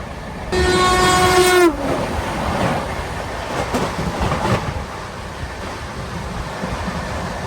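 The Andaman Express thunders past on the railway track, opening with a loud, sustained horn blast for about a second, then a continuous rumble and clatter of passing wagons that stays close and fairly even.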